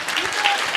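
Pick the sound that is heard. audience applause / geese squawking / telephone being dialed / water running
audience applause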